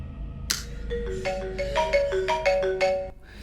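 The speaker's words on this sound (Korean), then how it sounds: "죽은 KT에게 전화까지 옵니다" A phone ringtone plays a bright melodic sequence of electronic notes, clear and close, following a sharp onset, with no talking.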